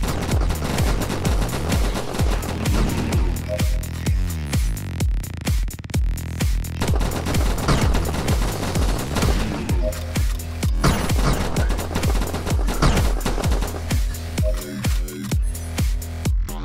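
Rapid gunfire in the VR shooter Dimension Hunter, with bursts of quick shots over a continuous game music bed, loud and dense throughout.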